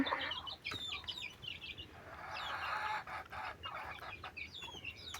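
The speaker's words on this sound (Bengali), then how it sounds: "যে খামারে অল্প কয়েকটা মুরগি আছে" Several chickens cluck and call on a small backyard farm, close and moderately loud, with soft bird chirps and faint background rustle between the clucks.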